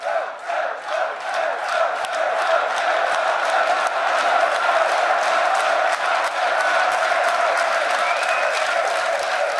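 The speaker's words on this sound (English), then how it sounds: "Well, rightfully deserving that applause" A crowd at a League of Legends esports group-stage match applauds and cheers steadily, a broad sustained roar with clapping that holds at full strength throughout.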